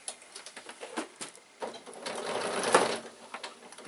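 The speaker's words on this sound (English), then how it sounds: "we're going to now sew down around the corner, stop, leave a gap," Sewing machine stitching a bag with piping, running in short bursts that rise into a longer, louder continuous run before pausing again, close and with no talk.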